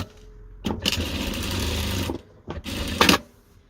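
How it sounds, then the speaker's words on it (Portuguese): A sewing machine runs in two bursts, stitching the lining of a small handbag. A longer run of about a second and a half is followed by a brief pause, then a shorter second burst. The whirring is close and loud, with no talk over it. "Costurar aqui o forro, ó."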